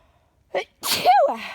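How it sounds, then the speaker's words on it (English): A short sharp intake of breath followed by a single loud, close sneeze that trails off into a brief exhale. "I'm gonna sneeze."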